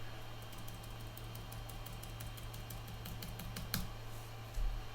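Computer keyboard keys tapped in a steady run of quiet clicks while working in the Unity editor, faint and close over a constant low fan hum, with a slightly louder keystroke near the end.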